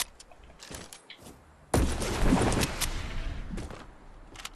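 A rocket launches in a video game with a sudden loud, broadband blast and a roar that fades over a couple of seconds, preceded by scattered short clicks and pops.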